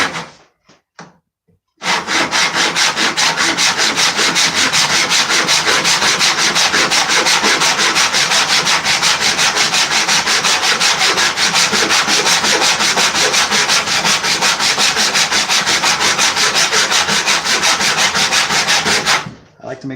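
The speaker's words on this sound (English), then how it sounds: "So then you just start cutting until you're done." A hand saw cuts through a clamped piece of wood in fast, even back-and-forth strokes, producing a loud rhythmic rasping that carries on steadily for most of the clip before stopping.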